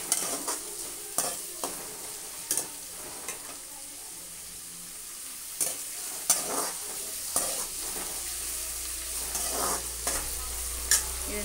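Onions frying in a pan, the steady sizzle broken by repeated scraping stirs from a spoon at irregular intervals, close and fairly loud with no talking.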